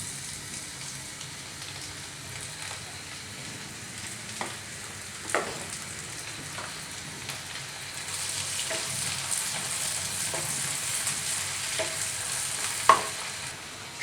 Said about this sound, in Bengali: সরিষার তেলটা খুব ভালোভাবে গরম হয়ে এসেছে। আমি এখন এতে 1 কাপ পরিমাণ পেঁয়াজ দিয়ে দেব।